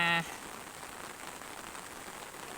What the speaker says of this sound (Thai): บรรยากาศวันฝนตก ณ เวลานี้